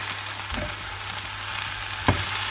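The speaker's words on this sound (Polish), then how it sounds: "I mieszamy." Chicken and vegetables fry in a pan with sesame seeds, a steady broadband sizzle running throughout, while a utensil stirs with a soft scrape near the start and a sharper clack about two seconds in.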